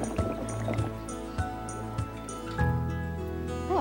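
Cartoonish game-style liquid pouring and bubbling effects as coconut oil is poured into a beaker in a lipstick-making game, with short splashy bursts over a bright, tonal musical background.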